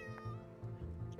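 An in-game cat in Shroud of the Avatar gives a short, clear meow, with a brief repeated mewing pattern over a soft tonal backdrop.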